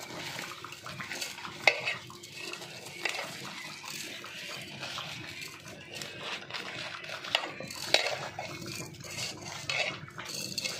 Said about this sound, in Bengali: এবার আমি একটু হাতের সাহায্যে মিশিয়ে নিচ্ছি চিনি আর আম